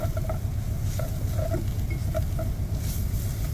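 Salisbury steak gravy of fat and flour simmering in an Instant Pot inside a big rig cab, a steady low bubbling patter with small pops and ticks, close and even throughout with no talk.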